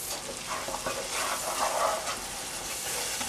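Onion, celery and garlic sautéing in a pan give off a steady, close frying sizzle, with brief stirring scrapes rising and falling through the hiss and no voices.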